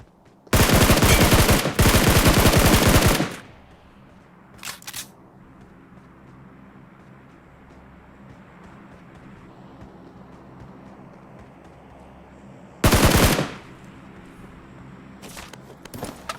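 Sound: gunfire in a shooting video game

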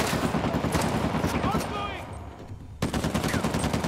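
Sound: gunfire in the video game Uncharted: The Lost Legacy

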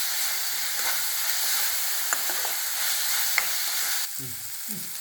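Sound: sautéing onions with salt and asafoetida in a pan

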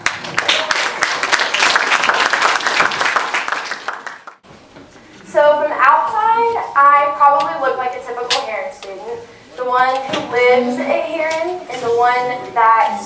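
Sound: audience applause welcoming speaker

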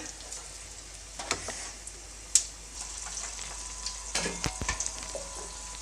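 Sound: okra mirchi bajji frying in oil

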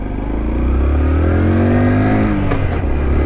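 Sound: Honda Dax motorbike engine accelerating after gear change

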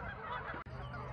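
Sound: geese honking

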